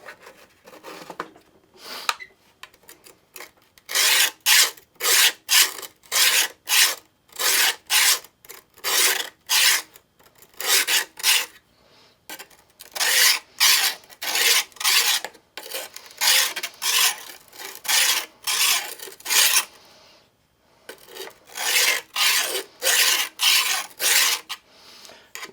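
A knife is drawn repeatedly across the 300 grit side of a four-sided diamond sharpener, making rhythmic raspy scraping strokes in bursts, close and loud with short pauses between sets.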